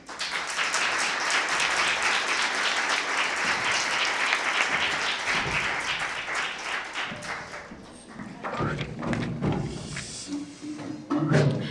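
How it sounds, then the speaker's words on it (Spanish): Audience applause at a closing political rally for the Andalusian elections, loud sustained clapping from a crowd that thins into scattered claps and taps toward the end. "un aplauso para él"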